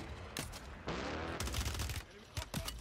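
Gunfire in the Warzone video game, several rapid bursts of shots in quick succession, fairly close, with players' voices talking over the shooting.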